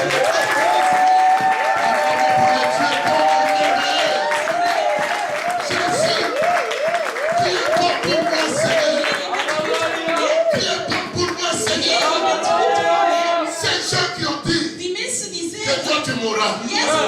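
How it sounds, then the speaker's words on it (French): Church congregation clapping and cheering in steady applause that runs throughout, with music and voices layered over the dense, loud crowd noise. "Acclamons pour les rois."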